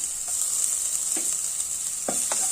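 Grated coconut and onion sauté in a pan for a beef thoran, a steady, close sizzle with a few brief scraping stirs.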